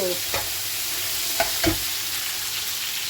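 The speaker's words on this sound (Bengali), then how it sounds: "এদিকে ভাজা হচ্ছে মাছের সবজি আর এদিকে ভাজা হচ্ছে ভাজা আলু ক্যাপসিকাম বেগুন দিয়ে একটা ভাজা" Dorade fish with vegetables, plus a separate fry of potato, capsicum and eggplant, frying in a pan, a steady close sizzle broken by a few sharp stirring scrapes, with no talking.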